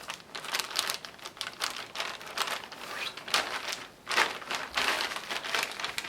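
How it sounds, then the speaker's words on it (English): A plastic transit bag for a urine chain of custody sample crinkles close by as its seal strip is peeled off and pressed shut, continuous irregular rustling and crackling with no talk. "We peel off the seal for the transit bag. We now seal that up."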